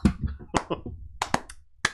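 A handful of sharp hand claps, close and fairly quiet, land irregularly in a small indoor room, with short gaps between the bursts.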